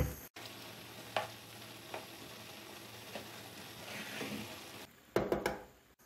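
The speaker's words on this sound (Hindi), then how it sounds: "अब हमने जो चिकन निकाला था वो डाल देंगे, मिक्स करेंगे।" Chicken goes back into a frying pulao and is mixed through, a quiet continuous sizzle with occasional stirring clacks, then a burst of louder scraping and knocks near the end, heard close with no talk.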